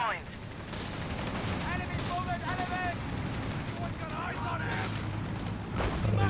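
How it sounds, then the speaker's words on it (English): Machine gun fire and battle noise in the Company of Heroes 3 strategy game: repeated bursts of rapid gunfire and explosions layered over ongoing combat ambience, with someone talking throughout. "you can see the machine gun is inside the building there"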